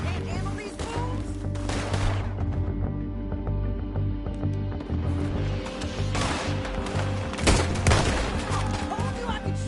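Gunfire in the Western video game Red Dead Redemption 2, a dense stretch of repeated shots and bursts over a steady music-and-ambience bed, with a heavier blast near the end and voices talking between shots.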